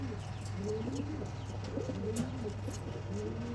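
Pigeons at a pigeon sale in Bangalore coo repeatedly in soft, throaty rolling calls that overlap one another, close by over a low steady hum.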